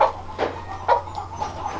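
Roosters in a flock of backyard chickens give a few short, scattered clucks and soft calls, fairly close and moderate in volume over a low steady hum.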